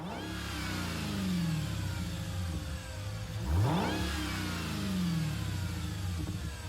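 A Dodge Charger fitted with the Challenger Demon engine in Gran Turismo 7 revs hard, its engine note climbing and falling through several sweeping pulls, loud and close, with no voices.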